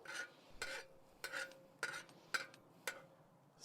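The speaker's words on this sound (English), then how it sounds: "we just mix it until the brown sugar melts" Melted butter and brown sugar are stirred in a pan, about six soft rhythmic scraping strokes at an even pace, faint and close, with no voices.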